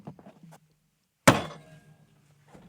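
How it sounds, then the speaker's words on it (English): A microphone set down with one sharp, close thud that rings out briefly, after faint scattered knocks and before quiet handling noise. "I'm going to put the microphone down."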